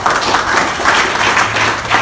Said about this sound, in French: Marc Xavier, sous vos applaudissements